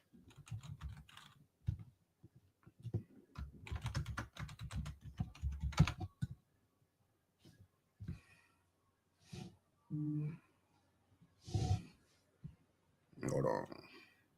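Keys clatter on a computer keyboard in quick bursts of tapping, then sparser, isolated presses. Talking comes in between the bursts, and the clicks sound close but soft.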